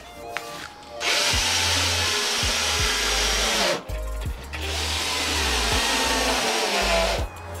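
Power drill driving screws into wooden furniture in a workshop, two long loud whirring bursts with a short pause between, close up and alone.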